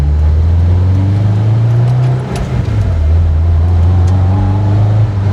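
A 500 hp Subaru WRX STI drives along, its engine drone steady and loud from inside the cabin, with a brief dip and shift in pitch midway before settling back into the constant hum.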